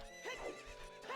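Horse neighing in The Legend of Zelda: Ocarina of Time video game, a single quiet, quavering whinny that rises and falls over about a second.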